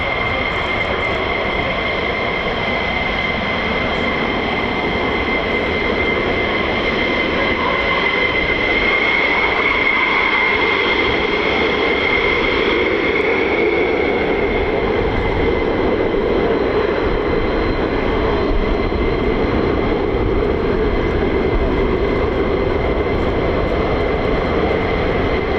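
F-15 and F-35 fighter jet engines roar steadily at an air base, a loud, continuous broadband rumble with a rising whine as the nozzles shift and produce a sweeping fweep tone.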